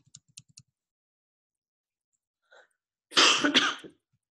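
A single burst of coughing, fairly close and clear, after a few soft clicks and a brief quiet stretch.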